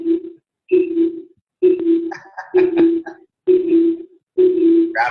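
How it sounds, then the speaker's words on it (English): Repeating electronic tones pulse in regular bursts about once a second, a steady beep pattern on a phone line with brief higher warbles mixed in. "There's a weird beeping."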